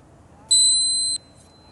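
One sharp, high electronic beep from a golf swing trainer, signalling the wrists breaking down, lasts under a second against faint background hiss.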